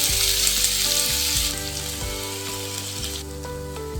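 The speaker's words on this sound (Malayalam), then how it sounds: "ഇതിലേക്ക് ഉഴുന്ന് പരിപ്പിട്ട് വറ്റൽ മുളകും ഇട്ട് മുറിച്ച് വെച്ചിരിക്കുന്ന സവാള ഉരുളക്കിഴങ്ങ് പച്ചമുളക് ഇഞ്ചി വെച്ച് നന്നായി വഴറ്റിയെടുക്കാം" Urad dal, dried chillies, onion, potato, green chilli and ginger sautéing in hot oil, a steady close sizzle with faint stirring and light music behind, no voices.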